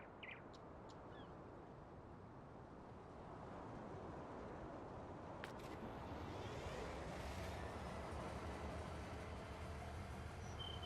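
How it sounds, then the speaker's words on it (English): Train ride in Farming Simulator 19, a steady low rumbling of rolling railcars and engine drone that swells slightly louder midway, with a brief high squeal, continuous and without talk. "Get back to our train ride."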